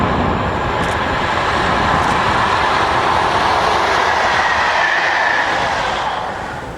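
A pair of classic diesel locomotives roll past at Elford, a loud, broad engine rumble with rail noise holding steady and close before fading toward the end.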